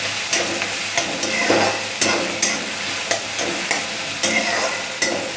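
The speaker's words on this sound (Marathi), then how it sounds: "कांदा फ्राय करून घ्यायचा आहे चांगला." Onion frying in a pan for a yellow potato bhaji, with steady sizzling broken by regular stirring scrapes roughly every half second, close and fairly loud, no talking.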